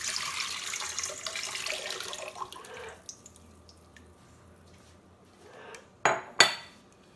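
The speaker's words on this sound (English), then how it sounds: "We're going to start off by putting in our wet ingredients first." Wet ingredients for cupcake batter are poured into a bowl, a close, soft liquid flow for a few seconds, followed by quiet and then a couple of sharp clinks of a utensil against a dish.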